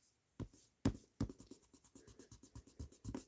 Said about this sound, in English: Let's see if I can erase this.